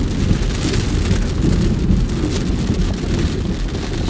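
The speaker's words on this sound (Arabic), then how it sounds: "الأمطار كانت غزيرة جدا" Heavy rain pours down during an August storm over roads east of a village in Jazan, Saudi Arabia: a loud, dense, unbroken hiss and patter close to the microphone, with no voices.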